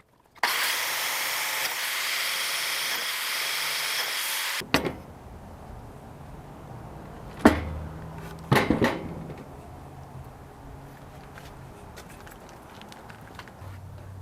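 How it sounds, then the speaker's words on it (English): A biscuit joiner whines for about four seconds cutting a slot in an Alaskan birch countertop board, then stops, followed by wooden knocks and clatter as the board and tool are handled. "I have to cut biscuits in the other board too, or cut slots in the other board as well"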